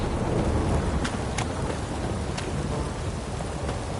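Steady rain pours down with rumbling thunder in The Witcher 3 video game, a dense, even wash of downpour that fills the whole stretch with a few sharper cracks and no talking.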